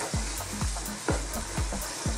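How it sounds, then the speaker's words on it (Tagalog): A spoon stirs Filipino hototay chicken soup in a pot, giving steady rhythmic scraping strokes, about one every half second, over a bubbling simmer, close and clear with no talking. "haluin natin"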